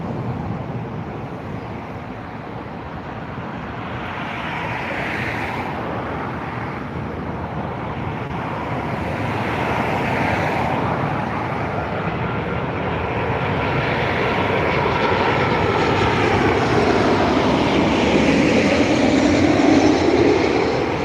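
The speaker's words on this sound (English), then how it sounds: "the Ryanair 13-year-old 737-800 aircraft arriving in 9 minutes late from Warsaw Modlin" A Ryanair Boeing 737-800 jet arrives at Dublin Airport, its broad engine roar building steadily and loudly over about twenty seconds with no talk.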